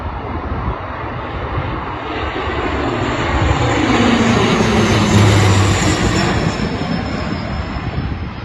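A WestJet airliner arriving from London flies past, its steady broadband jet roar swelling toward the middle and easing slightly at the end, continuous and fairly loud with no talking.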